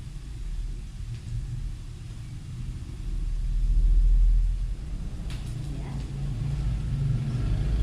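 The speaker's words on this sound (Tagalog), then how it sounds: "medyo marami rin mga dumadaang sasakyan. Medyo naririnig din naman." Vehicles pass by outside on a morning street, heard as a steady low rumble of traffic that swells with one louder engine before settling back to a constant background drone.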